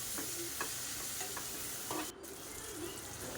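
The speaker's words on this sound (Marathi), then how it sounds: "टोमॅटोला देखील थोडंसं आपल्याला परतवून घ्यायचं" Tomatoes sizzle in a pan with a soft steady frying hiss, punctuated by occasional scraping stirs of a spatula.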